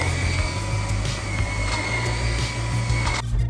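A Dreametech T20 cordless stick vacuum runs steadily on carpet in an office, a loud, even motor whine with a constant low drone that cuts off abruptly near the end.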